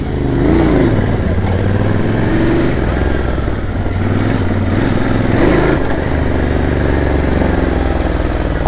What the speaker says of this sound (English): I'm riding a Interceptor and a toll-free riding GT.